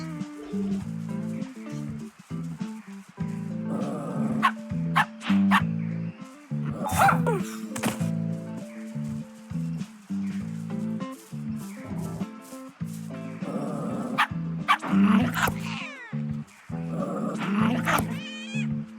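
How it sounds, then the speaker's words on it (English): Dogs bark and yip repeatedly in the video game Crankles, loud and close, with a steady game hum underneath and occasional whimpering sounds. "Pick out these dogs."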